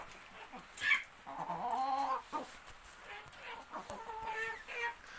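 Chickens and their chicks cluck and chirp close by in short, uneven bursts, with soft rustling between calls.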